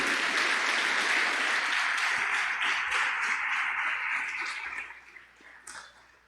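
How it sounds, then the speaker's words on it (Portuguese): A church congregation applauds loudly and steadily during a service, the clapping thinning out and fading over the last couple of seconds. "Pode aplaudir o Senhor."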